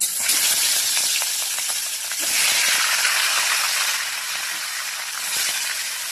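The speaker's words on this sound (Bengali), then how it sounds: "দেখো, তেল গরম হয়ে গেছে, এবার আমি মাছ দিয়ে দেবো।" Rohu fish pieces dropped into hot oil in a heated kadai, giving a loud, steady broadband hiss and sizzle that swells and continues throughout, with no talking.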